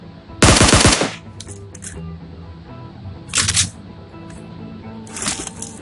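Gunfire in the video game PUBG: a loud burst of automatic fire up front, then two shorter, quieter bursts a few seconds apart, with faint game ambience between.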